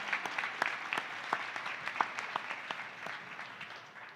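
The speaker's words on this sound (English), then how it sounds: "let's give another round of applause for all of our presenters tonight" A modest crowd at a community crowdfunding event applauds its presenters, a sparse round of individual claps with distinct sharp hits, fairly quiet and gradually tapering off over about four seconds.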